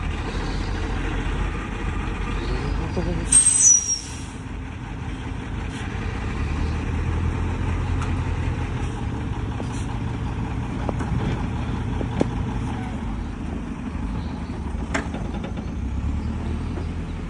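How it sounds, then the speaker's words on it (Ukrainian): KAMAZ garbage truck arriving and loading rubbish outdoors in light rain, a steady low engine rumble with scattered clanks and one brief high squeal early on. "Приїхав КАМАЗ на мусор."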